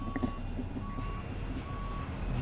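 A truck in Euro Truck Simulator 2 backs up with steady, evenly spaced reversing beeps sounding over a low idling engine rumble.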